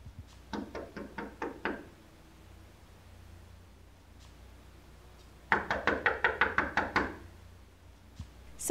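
Knuckles rap on a door in two bursts, first a quick run of about six knocks, then after a pause a louder, faster series of around nine, with quiet room tone between.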